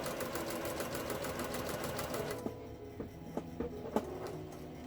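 A sewing machine top-stitching a fabric face mask, a fast, steady mechanical whir that runs and then stops, followed by a few faint clicks and taps, close by and with no talking.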